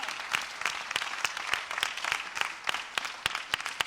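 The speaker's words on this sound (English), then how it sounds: "Give God a hand clap of praise" A church congregation claps in praise during a worship service, a lively rhythmic stream of hand claps with sharp accents at a steady beat.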